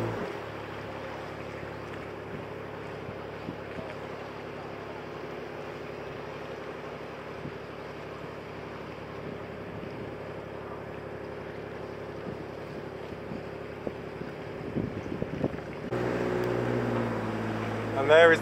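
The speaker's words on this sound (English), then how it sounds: "And there's another boat coming up." A boat passes on the River Thames, heard from aboard a narrowboat as a steady low engine drone and water rush, with a broader, louder swell near the end.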